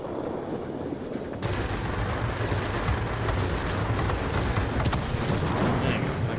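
Rapid, sustained cannon fire from a BV P.203 aircraft in World of Warplanes, a dense stream of shots over a constant engine roar.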